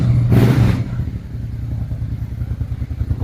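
Honda RC31 motorcycle engine idling on choke just after a cold start, with a steady, loud, close throbbing beat and a brief louder surge near the start.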